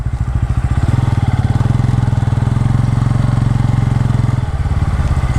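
A motorcycle idles steadily at close range while being parked near a church in Telangana, its even, throbbing engine pulse loud and continuous with no talking.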